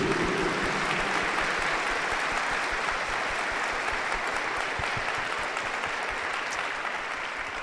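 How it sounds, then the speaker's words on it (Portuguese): A church congregation applauds during a Mass for the Solemnity of Saints Peter and Paul, a dense, sustained burst of clapping from a large crowd in a reverberant space that continues evenly throughout. "Dê uma salva de palmas para Jesus."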